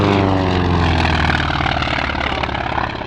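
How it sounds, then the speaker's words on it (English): A P-51 Mustang warbird at the 2019 Miramar Airshow passes by, its propeller engine a loud, steady roar that shifts in pitch as it goes past. "Look at the Mustang as it comes by."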